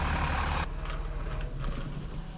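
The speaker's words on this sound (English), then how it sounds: "Let's turn the engine off." A motorhome engine idling with a steady low rumble that abruptly cuts out, leaving a quieter background with faint rattles and hum, close by.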